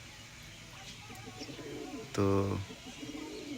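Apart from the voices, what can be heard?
pigeons cooing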